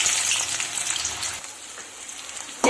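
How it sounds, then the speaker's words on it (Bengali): Onions frying in hot oil for birista, a dense close hiss of sizzling that eases slightly midway before a sudden louder burst of spitting near the end, with no talk. "এবার আমি বেরেস্তার পেঁয়াজ ভেজে নেব।"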